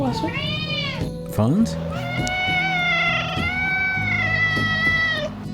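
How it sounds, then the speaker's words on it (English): Several cats meow and caterwaul in long, wavering, drawn-out cries close by, overlapping one another almost continuously, with a brief spoken word partway through. "There go the cats."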